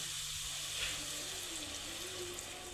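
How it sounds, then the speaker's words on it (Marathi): Water pours steadily into a pan of drumstick-pod curry, a continuous trickling splash with no talking over it. "यामध्ये थोडंसं पाणी टाकून घेऊ आपण"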